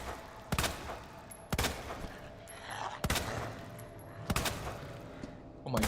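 Handgun shots in the Resident Evil 2 (2019) remake, five sharp, loud reports spaced roughly a second apart, each with a short ringing decay over a steady ambient game hum.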